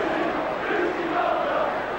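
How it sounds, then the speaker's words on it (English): Liverpool fans in a football stadium crowd during a Norwich City v Liverpool match chanting for goalkeeper Bruce Grobbelaar, a steady, loud massed roar of voices sustained throughout. "the crowd are calling for a Brucey Grobbelaar"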